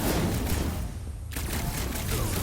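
Gunfire during combat in Marvel's Guardians of the Galaxy on PS5, a dense rattle of shots with a brief lull in the middle before the fusillade resumes, loud and close.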